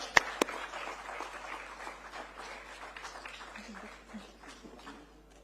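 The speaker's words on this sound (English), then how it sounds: "Let's welcome him with a huge round of applause" An audience at the Indology Conclave breaks into applause, a soft, diffuse patter of many hands after a couple of sharp claps, gradually tapering off over several seconds.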